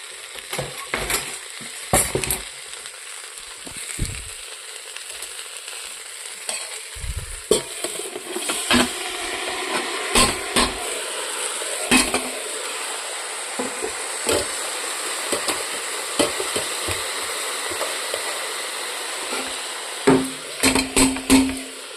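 Millet, rice and dal stirred in a frying pan, with a steady sizzle broken by frequent sharp scraping strokes of the spoon, close and loud throughout.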